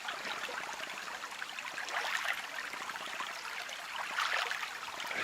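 Cold creek water flows nearby in a continuous babbling rush that swells slightly louder in places, heard alone.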